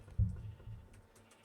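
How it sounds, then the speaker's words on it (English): Laptop keyboard keys being typed while entering a network security password, a short burst of soft clicks, quiet and close, fading after the first half second. "typing network security password is really fun"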